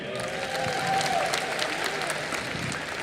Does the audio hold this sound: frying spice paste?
no